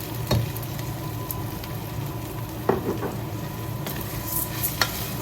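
Barley vermicelli fry steadily in a pan, a continuous close sizzle with occasional stirring scrapes and clicks of the utensil against the pan, with no talking.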